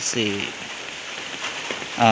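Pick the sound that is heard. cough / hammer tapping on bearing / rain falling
rain falling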